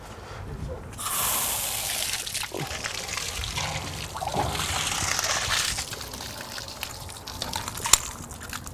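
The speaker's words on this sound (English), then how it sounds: "you'll see how much water actually comes out of these after we got them drained" Water pours and trickles out of drained valves on a 2017 Dultmeier brine maker, a steady splashing flow that swells and fades over several seconds at close range.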